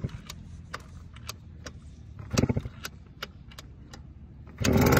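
A small KTM 50 dirt bike engine idles low and rough, with light ticking clicks, then bursts into a loud, buzzing rev at the very end.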